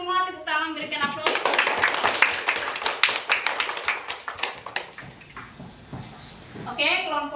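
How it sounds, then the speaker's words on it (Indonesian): A classroom group breaks into brisk, dense applause for several seconds, with a voice speaking briefly just before the clapping starts and again after it fades. "coba untuk semua tepuk tangan, berikan aplaus."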